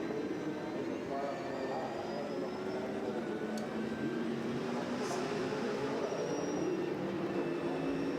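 A race car engine at low revs on board at the Nürburgring during a 12-hour race, a steady, fairly loud drone with a commentator talking over it.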